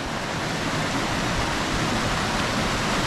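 A natural waterfall pours down from a cliff in Utah, a steady, close, full-bodied roar of rushing water with no voices over it.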